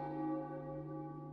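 A church bell tolls once in the Final Fantasy 9 video game, a single deep resonant strike that rings out and slowly decays, heard alone with no talking.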